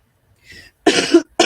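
A person coughs twice at close range, in quick harsh bursts with a short gap between them, after a faint throat sound.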